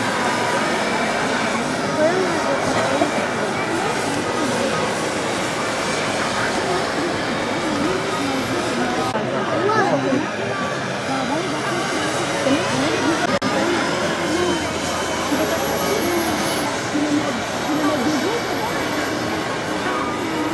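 Kerosene-burning model turbine jet engines running at an outdoor model aircraft flying field, a continuous roaring whine held at a steady level throughout, with someone talking over it.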